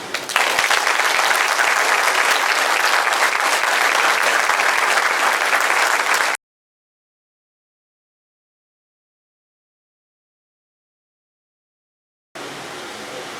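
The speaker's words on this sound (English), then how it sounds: "Let's give another round of applause" Applause at an induction banquet: a steady wash of clapping from a crowd fills the first six seconds, then stops abruptly, followed by silence and a brief resumption at the end.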